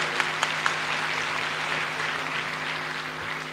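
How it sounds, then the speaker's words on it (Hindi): Audience at a satsang gathering of saints applauding musicians, a steady even wash of clapping from a large crowd with a few sharper claps near the start and a low constant hum underneath. "इनके लिए एक बार तालियां जरूर बजाइएगा"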